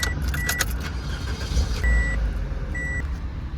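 A Toyota Corolla Matrix engine starts and runs steadily at close range, with a low rumble, two bright electronic warning chimes and a brief jingle of keys near the start.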